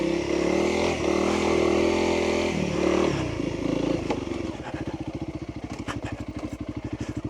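A Honda CRF300L dual-sport motorcycle climbs a muddy off-road hill, its single-cylinder engine droning loudly and then settling into a fast, even thumping pulse as it labours upward, with no talk.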